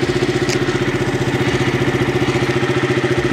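A motorcycle engine idles close by, a steady low rhythmic chugging that holds even and loud throughout with no speech.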